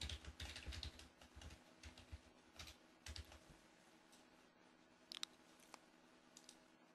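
Soft keyboard typing in a short burst, followed by a few scattered clicks over a low steady hum.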